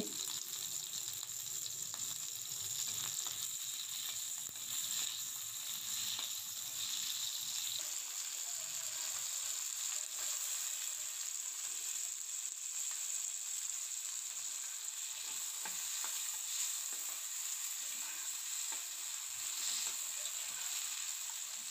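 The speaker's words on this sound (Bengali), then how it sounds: "তো এক পদের সুটকি ভাজা হওয়ার পর এখন আরেকটা ভেজে নিচ্ছে" Dried fish (shutki) frying in a pan at home, a steady continuous sizzle and hiss that holds at an even level throughout, with no voices over it.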